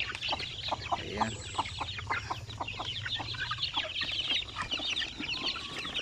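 A large flock of around sixty chicks in a range area gives constant high peeping and clucking, dense and overlapping from nearby without pause.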